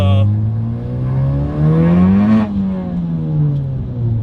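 A Hybrid Racing-built FK8 Honda Civic Type R driven hard: its engine revs climb, then drop and rise again near, loud and alone, with a brief high whine at the start.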